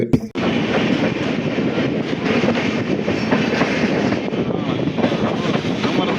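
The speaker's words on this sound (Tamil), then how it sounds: "சிதம்பரம் ரயில்வே ஸ்டேஷன் தான் இப்போ அங்கே ரீச் ஆகிட்டோம்" Passenger express train number 16231 pulling into Chidambaram railway station on the Cuddalore–Mysore run, a steady loud rumble of rolling wheels and carriage clatter heard from on board, continuous throughout after a brief opening thump.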